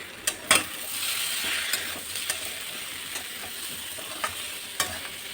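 Potatoes coated in red chilli powder, turmeric and salt stir-fried in a pan, a constant sizzle broken by several sharp scraping knocks of a utensil against the pan.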